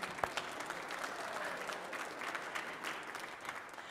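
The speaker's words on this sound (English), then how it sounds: "I didn't mean to step on your applause" A congregation applauds during a Sunday church service, steady moderate clapping across the hall that stays fairly soft and even throughout.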